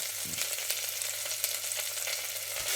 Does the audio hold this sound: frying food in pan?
yes